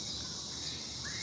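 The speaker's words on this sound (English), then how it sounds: "The cicadas are still out, but that's all right." Cicadas in a park at night make a steady, high, shimmering buzz that runs without a break, with a faint chirp near the end and no voices.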